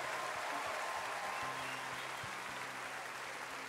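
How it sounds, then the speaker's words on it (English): Audience at a live Christian music awards concert claps and cheers steadily, a dense wash of applause from a large crowd with scattered whoops, heard at a distance and fairly faint. "Make some noise for Abby."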